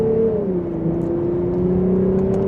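A 2025 Lexus IS 350 pulls away from second gear in paddle-shifted manual mode, its engine drone rising steadily and smoothly at a mild pace, heard continuously from inside the cabin.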